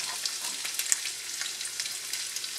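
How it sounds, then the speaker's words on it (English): Shallot and ginger sizzle in a hot pan with a steady, soft crackling hiss dotted with faint pops, heard close and alone. "I'm going to put a little bit of my shallot in there, and as you can see, it's sizzling nicely."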